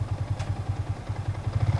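A manual-clutch motorcycle pulls away in first gear, its engine giving a low, rhythmic throbbing pulse close by, with a brief clatter early on and the beat quickening slightly near the end.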